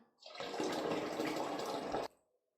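Homemade kvass is poured into a bottle as a steady, gurgling stream of liquid that runs for about two seconds and then stops abruptly, leaving quiet.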